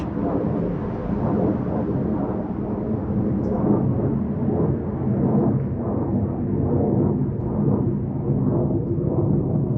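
An F-16 fighter jet's heavy rumbling roar overhead at night fills the air, steady and broad, slowly fading a little toward the end, with no speech.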